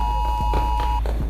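A piercing electronic alarm tone in a dramatized audio story, one steady high beep held for about a second against a low background hum.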